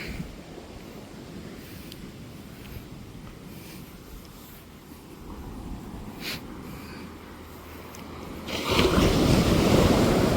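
Calm sea waves wash onto a beach in a continuous soft surf, with wind buffeting the microphone, then swelling noticeably louder near the end.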